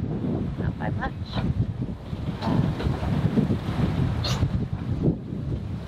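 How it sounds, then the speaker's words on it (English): Wind buffeting a microphone aboard a sailboat offshore, a steady rushing roar with low gusty rumble and faint water wash, continuous throughout with occasional brief knocks. "now the wind's back up"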